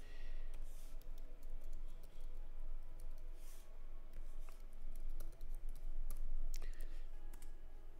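Rapid keyboard typing with irregular clicks and clacks, fairly close, over a steady low background hum, with no talking.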